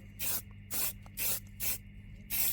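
Five short, crisp bursts of aerosol spray paint hiss evenly in quick succession, close and fairly quiet, as a coat goes onto VW fog light grilles.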